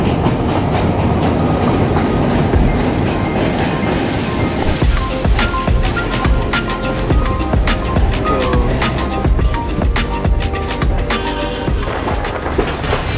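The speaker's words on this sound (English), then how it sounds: "as soon as the train started, everyone just started running with their cameras towards the windows" Passenger train running on rails on the scenic route through the hills around Ella, Sri Lanka, with a steady loud rumble and rhythmic clickety-clack of wheels over rail joints, close and continuous throughout.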